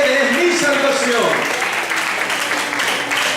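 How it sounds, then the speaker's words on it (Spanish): A church congregation claps in sustained, dense applause that fills the room from start to finish, with voices mixed into the broad wash of clapping. "Démosle ese fuerte aplauso al Señor."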